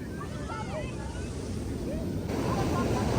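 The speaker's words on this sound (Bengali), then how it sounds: "কি অবস্থা, জোর জোর ঢেউ আসছে আজকে," Big sea waves breaking at Puri beach, a loud, steady roaring surf mixed with heavy wind buffeting on the microphone over a few seconds.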